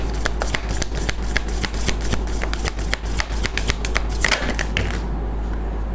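A deck of tarot cards is shuffled continuously and close up, giving a rapid, steady run of crisp riffling card flicks that stops abruptly near the end.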